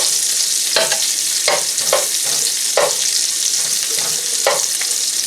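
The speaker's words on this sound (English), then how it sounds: "I'm going to go ahead and get this onion sauteed" Onion sautéing in a hot pan for Salisbury steak gravy, a loud continuous sizzle broken by periodic scraping stirs, close and without talk.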